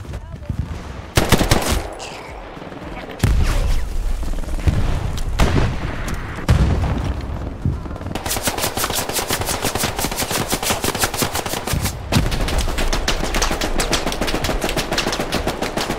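Machine gun fire in the WWII shooter game Hell Let Loose: scattered loud shots and booms give way to long, dense, rapid automatic bursts, close and harsh, continuing almost unbroken to the end.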